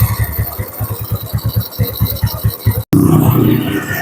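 A Honda Grand motorcycle engine with an ignition fault idles with a rapid, even chugging pulse, close and fairly loud, then cuts briefly before a higher, rougher running sound resumes.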